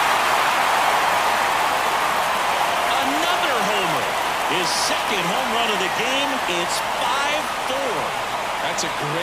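A baseball stadium crowd keeps up a loud, steady roar of cheering after a home run in a Braves–Marlins game, with a commentator talking over it.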